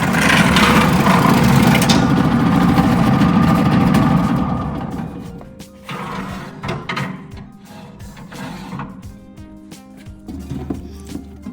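An STvega Belt Cutter H20 machine slicing zucchini, first a loud dense mechanical roar, then quieter running with repeated clicks and clacks of the blade and belt, close up.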